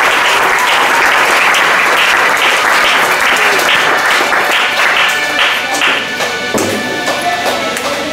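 A church congregation claps loudly and steadily to acclaim the Lord, many hands making a sustained, dense applause that tapers slightly toward the end.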